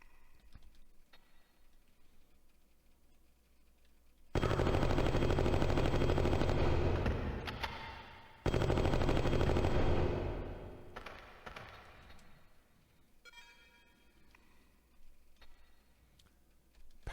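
Machine gun fire from a video game set in a Mars base, two long, loud, unbroken bursts of several seconds each split by a short gap, with quieter ticking and game noises before and after.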